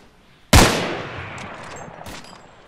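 A single loud, close gunshot blasts in a zombie shooter video game, followed by a long reverberant decay and a fainter second shot near the end.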